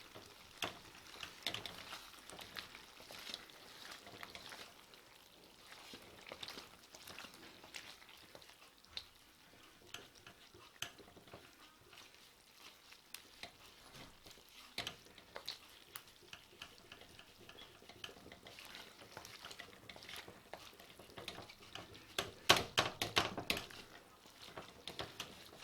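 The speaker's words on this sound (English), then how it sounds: "this is 25 minutes into cooking the karahi" Chicken karahi, a Pakistani-style dish, sizzles and fries steadily in a pan while being stirred, with scraping and clattering strokes growing busier and louder near the end; no one speaks.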